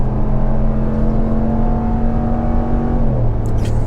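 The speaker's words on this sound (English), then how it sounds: "Floor the accelerator. Oh yeah, nice quick downshift." A 2026 Ram 1500 pickup with a HEMI V8, towing a trailer, accelerates hard with a loud, steady engine drone that drops in pitch at a quick downshift, heard up close from inside.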